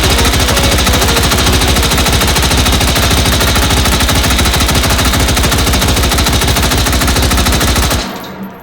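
AR-15 emptying a 150-round drum magazine in the VR shooter H3VR, a loud unbroken stream of rapid automatic shots at a fast even rhythm that abruptly stops near the end, no voices.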